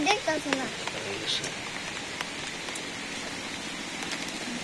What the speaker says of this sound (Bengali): বন্ধুরা যে বৃষ্টি শুরু হয়েছে